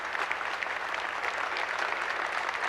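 Audience applauding government ministers at a public gathering during a cross-Canada walk event in Edmonton, a steady, dense wash of clapping from a sizable crowd, continuous and even throughout without voices.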